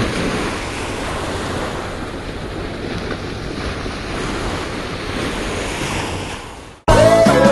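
Ocean waves on the beach at Panama City Beach: a continuous, loud wash of surf mixed with gusty wind buffeting the microphone, ending abruptly.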